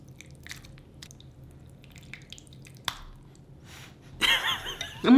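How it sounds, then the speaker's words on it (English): Someone eats soup with saltine crackers up close, with soft spoon drips and quiet mouth sounds, then louder crunching and slurping toward the end. "little bit of soup ASMR"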